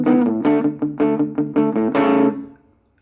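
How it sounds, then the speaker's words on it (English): An electric guitar through a Nux Mighty 8 BT amp on a low-gain distortion setting plays a short run of strummed, crunchy chords with clear attacks, loud and close, ending in a brief ringing decay. "First of all, the distortion with a very low gain."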